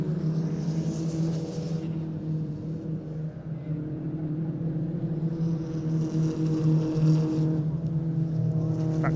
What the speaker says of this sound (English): Over the crossing go the leaders of the Peugeot 206 GTI Cup.